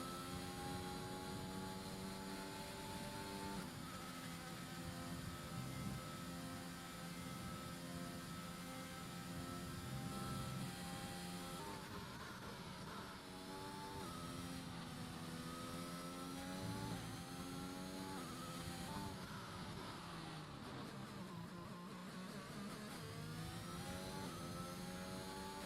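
Formula 1 cars racing in the F1 2021 game at the French Grand Prix, a continuous high engine whine with rising and falling pitch as several cars accelerate and shift, no talk.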